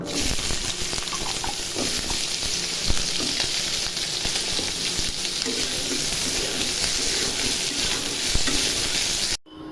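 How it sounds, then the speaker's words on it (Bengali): Potatoes fry in hot oil for a tilapia curry with potato and cauliflower, giving a loud, continuous sizzle with occasional stirring clatter until it cuts off abruptly at the end. "এখন আলুগুলো ভেজে নিব।"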